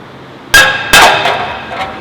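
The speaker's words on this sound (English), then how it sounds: "we're going to bang it out with a hammer" Hammer blows on a rear brake rotor being knocked loose from the hub: two loud, sharp metallic clangs close together, followed by a few fainter ringing taps as the metal rings out.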